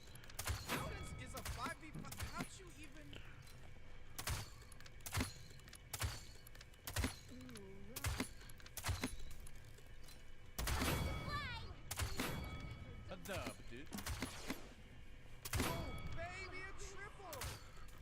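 Cassie's shots ring out in a Paladins match, sharp weapon blasts fired in quick irregular bursts at close range, with game effects and someone talking over the gunfire.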